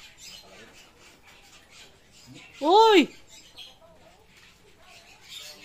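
A single loud, harsh bird squawk rises and falls over a faint outdoor hum, with a brief exclamation just before it and other birds faint in the background, as birds feed in a star fruit tree.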